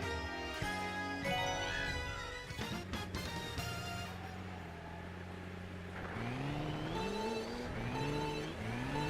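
Karts in Mario Kart 8 on the Wii U boost off the start line at Bone Dry Dunes, with engine tones revving and sweeping upward over continuous game music.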